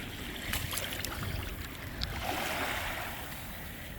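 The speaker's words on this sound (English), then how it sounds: "Let me rinse this off so you can get a better look." A wedge clam shell being rinsed at the cold-water shoreline on Memorial Day, with soft splashing and swishing water over steady surf and wind, quiet and close.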